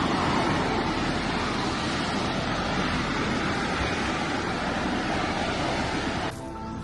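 Loud, continuous crash and wash of ocean surf on the Mie coast with strong wind buffeting, heard close and unbroken, then briefly dropping at the very end.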